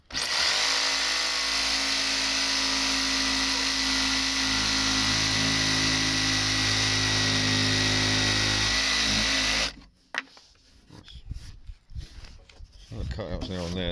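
Power saw cutting through a timber ridge beam during a stone barn renovation, a loud sustained close-up whine that runs steadily for about ten seconds, then cuts off to quieter knocks and handling noises.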